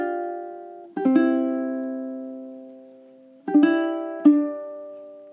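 Ukulele fingerstyle notes from measures 7 and 8 of The First Noel ring out alone, a few plucked chords and single notes in slow succession, each left to sustain and decay in a quiet room.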